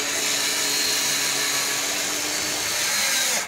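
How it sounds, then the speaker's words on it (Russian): A power screwdriver drives a 75 mm deck screw, its motor whining steadily and loudly for a few seconds before cutting off abruptly. "будем закручивать дековый шуруп"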